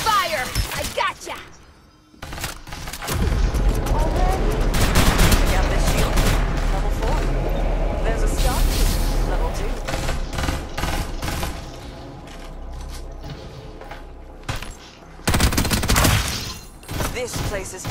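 Rapid bursts of gunfire in a shooting video game, dense and loud for most of the stretch, with crashing impacts mixed in and game voices calling out over the action.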